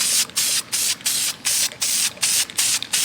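Short bursts of aerosol paint spray onto a K-Series car engine outdoors in the sun, about nine evenly spaced loud hissing blasts separated by brief pauses, close up with no talk.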